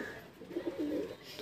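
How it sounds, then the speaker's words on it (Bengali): A Dhille pigeon held in the hand gives low, throaty coos in a few soft swelling pulses, close and fairly quiet. "পায়রা এত ছটপটে হাতে ধরে রাখা মুশকিল আছে"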